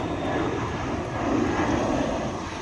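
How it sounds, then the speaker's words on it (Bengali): An IndiGo airliner takes off at Kolkata's Dum Dum airport, its engines a loud, broad, continuous roar that swells slightly midway with no other sounds standing out. "এই যে বন্ধুরা দেখতে পাচ্ছেন জাহাজ উঠছে"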